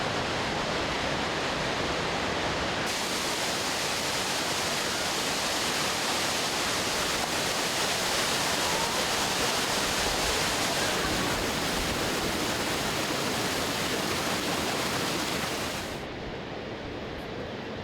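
Waterfalls and flowing water at Plitvice Lakes in Croatia, a loud, continuous broadband roar of cascading water close by, steady throughout with no voices, easing slightly near the end.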